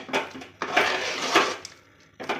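Pesara burelu batter being stirred with cardamom powder in a bowl: a close spoon or utensil scraping and clinking against the vessel in repeated strokes, with short pauses between bursts.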